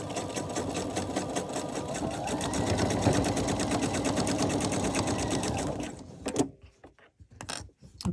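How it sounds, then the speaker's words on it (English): Sewing machine stitching and back stitching a home decor pillow envelope closure, a fast steady mechanical whir of rapid needle strokes, close and loud, then stopping into short bursts as direction reverses. "I'm going to back stitch to reinforce it"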